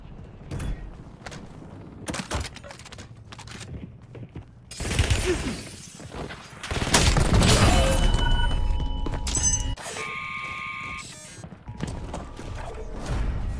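Gunfire and explosions from Call of Duty Black Ops battle royale come in scattered sharp bursts, then a dense, loud run of shots and mechanical game effects in the later half.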